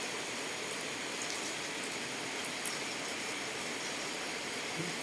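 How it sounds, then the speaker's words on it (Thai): Steady morning rain pours down in an even, hissing wash, with occasional louder drops standing out faintly. "ได้ยินเสียงฝนนอนฟังเสียงฝนใช่ไหมลูก"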